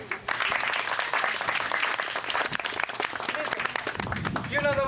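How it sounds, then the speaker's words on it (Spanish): A crowd at a traditional dance event in Oxapampa claps for a volunteer woman, moderately loud applause mixed with nearby voices talking, ending in a brief bit of music or whistling. "Un aplauso para ella."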